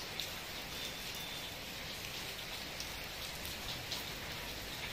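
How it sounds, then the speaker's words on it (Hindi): Heavy monsoon rain falls during the first rain of the Sawan month, a steady, dense hiss of drops striking surfaces, constant and unbroken, with no speech. "देखिए कितने तेज बारिश हो रही है।"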